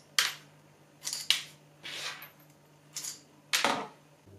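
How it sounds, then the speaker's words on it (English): Screws being slid out of a 3D printer stepper motor, five or six short metallic clicks and scrapes spaced about a second apart, close and fairly quiet, with no voices. "can now remove the screws out of the stepper motor"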